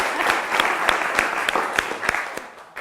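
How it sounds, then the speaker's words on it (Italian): A TV quiz show studio audience bursts into dense, steady applause, many hands clapping at once with some regular beats standing out, fading slightly toward the end. "facciamo un applauso anche a lei"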